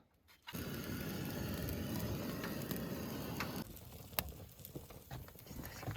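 Rain patters steadily on a tent or tarp at a winter campsite in Inje, Korea. The faint, dense patter softens partway through, and scattered drips and small knocks follow.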